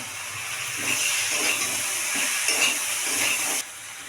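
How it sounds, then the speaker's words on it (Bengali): Peanut and poppy seed paste hisses and sizzles loudly in a hot pan, a steady close frying hiss with faint stirring bumps, cutting off abruptly near the end. "এখন আমি চীনাবাদাম আর পোস্তটা দিয়ে দিলাম বাটা"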